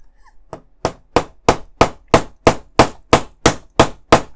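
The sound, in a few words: hammer tapping pins into place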